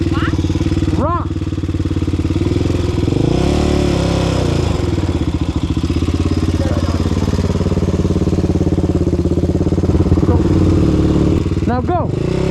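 An ATV engine runs steadily on a rocky off-road trail at Redbird State Park, a close, continuous mid-pitched drone with revving swells, while people call out and talk over it.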